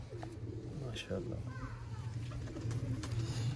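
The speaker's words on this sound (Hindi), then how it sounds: "ये कबूतर है जी" Breeder pigeons coo at a loft, soft low repeated calls sounding close under a steady hum, while someone speaks briefly over them.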